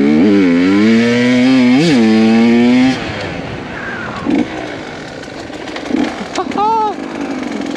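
Enduro motorcycle ridden on beach sand, its engine revving loudly and close in rising and falling pitch sweeps for the first few seconds, then dropping to a rougher, quieter idle with a short rev near the end.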